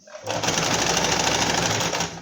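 Sewing machine stitching through folded, gathered fabric for a little girl's dress, running in one steady, loud, continuous burst for about two seconds after a short start.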